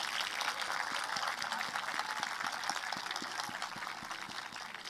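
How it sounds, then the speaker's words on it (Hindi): Steady audience applause at a Hindustani classical music concert, a raag Maru Bihag performance at the Sopan festival, with dense, fairly even clapping that holds at a moderate level throughout. "ऐसा लगा कि आपकी तालियों ने आपकी शाबाशी कलाकार तक पहुंचाई नहीं"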